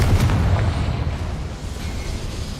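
Confringo blasting spell in Hogwarts Legacy, a heavy explosive boom with a deep rumbling low end that starts loud and slowly fades, no talk over it.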